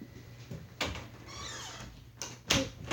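An indoor door is pulled shut, with a few soft knocks and a sharper thud of the latch near the end, close by, amid quiet room noise.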